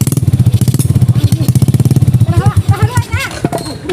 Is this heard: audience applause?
no